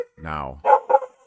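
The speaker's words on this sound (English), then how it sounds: "Sorry about my dog." A dog barking indoors: a drawn-out whining yelp followed by two sharp, loud barks close to the mic, with a brief spoken word at the start.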